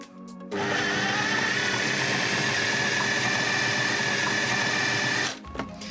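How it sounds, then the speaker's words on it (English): Blender purees chili, honey, apple, garlic and ginger into a smooth paste, its motor roaring steadily and loudly close by for about five seconds before cutting off, with a brief clatter afterward. "We'll pop the lid on and puree that right down to a smooth paste."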